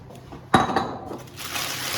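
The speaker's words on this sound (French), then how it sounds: "Alors on va enlever les céramiques." Ceramic baking beads clatter and clink as they are lifted out of a partly baked tart crust for a strawberry tart, a sharp pour of rattling beads followed by a softer rustling shuffle.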